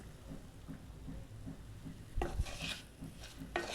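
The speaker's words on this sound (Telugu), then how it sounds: "గరం మసాలా కొంచెం వేసుకొని కలుపుకోవాలి" Spoon stirring garam masala through an egg fry in a pan, with a low background sizzle and a few louder scraping bursts toward the end.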